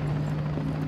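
Helicopter landing in Call of Duty: Modern Warfare 3, a steady low rotor drone with a constant hum under a broad noisy wash, loud and continuous through the short moment.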